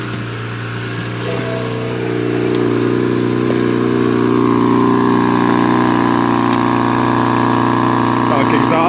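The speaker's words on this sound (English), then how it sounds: "Motor sounds healthy. No knocking, no weird ticking." A manual BMW 335xi engine idles close by. The steady, loud mechanical drone rises slightly early on and then holds an even, smooth idle throughout.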